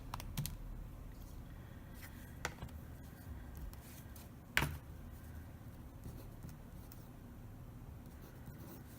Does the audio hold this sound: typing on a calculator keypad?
yes